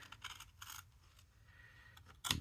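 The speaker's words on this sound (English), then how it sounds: "I think I'm gonna trim just along" Scissors trim paper ephemera in a few quiet, separate snips and a crisp louder cut at the end, close by with no talking.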